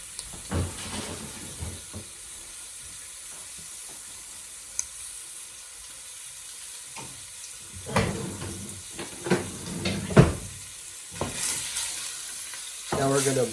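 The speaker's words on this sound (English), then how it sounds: "Pan is pretty hot. So in goes the sausage." Sausage lands in a hot pan and sizzles steadily, broken by louder bursts of scraping and stirring that come and go. The frying is close and continuous, with no voice over it.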